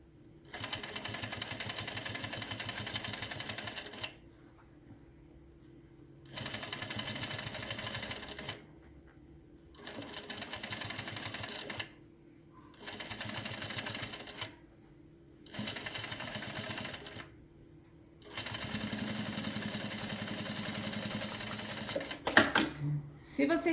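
Sewing machine stitching the loose lining of a handmade bag, running in steady bursts of several seconds separated by short pauses, with someone talking over and between the runs.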